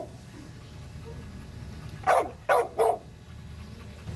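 A dog in footage played in a courtroom gives three sharp barks in quick succession. The barks are moderately close and clear over a quiet, low background hum.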